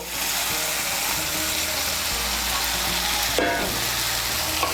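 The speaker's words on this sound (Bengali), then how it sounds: "এখন এর মধ্যে দিয়ে দেবো ভেজে রাখা ভেন্ডিগুলো।" Fried okra tipped into a yogurt and spice masala in a hot pan gives a steady, loud sizzle throughout, with a brief surge of crackling partway through as the okra hits the oil.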